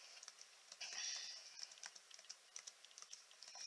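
Soft, close keystrokes on a computer keyboard as a password is entered, a quick uneven patter of light clicks with a short run of faster presses, quiet and with no talking.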